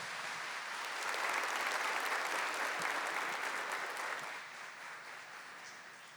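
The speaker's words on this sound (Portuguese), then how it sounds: "Uma salva de palmas para a família de Nazaré" A church audience applauding the family of Nazareth indoors: a dense wash of clapping that rises, holds steady, then tapers off softer toward the end.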